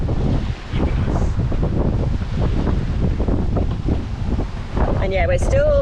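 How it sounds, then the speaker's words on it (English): Strong wind buffets the microphone continuously while sailing at speed toward Loreto, with water rushing beneath the hull and a voice briefly speaking near the end. "not getting as bad wind, Hal."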